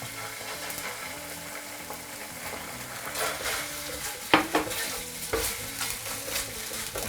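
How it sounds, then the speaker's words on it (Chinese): Chopped shallots stir-fried over low heat in a pan with oil, then tomato ketchup poured in, make a soft continuous sizzle with spatula scrapes and a few sharp clinks, close and alone. "先把干葱给它爆香，小火给它炒香以后，倒点番茄沙司"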